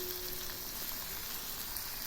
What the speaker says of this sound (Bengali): এখন আমি দিচ্ছি ক্যাপসিকামগুলো।